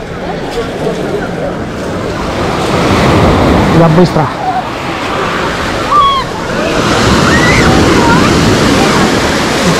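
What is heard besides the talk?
sea waves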